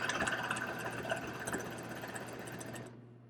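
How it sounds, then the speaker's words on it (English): A sewing machine runs a steady straight stitch through cotton fabric while an oversized jacket is being upcycled, a close, continuous whirring hum that stops abruptly near the end. "So I'm just going to go ahead and do a straight stitch"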